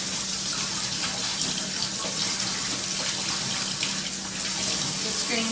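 Running water from a tap steadily rinses parts of a Samson 9001 juicer in a sink, a continuous broadband splashing hiss with no pauses.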